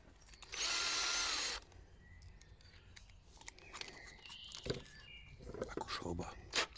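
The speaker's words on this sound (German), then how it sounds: "So, habe ich jetzt meine Bohrmaschine." A cordless drill whirs loudly in one steady burst of about a second, then stops, followed by faint clicks and handling noises in a quiet workshop.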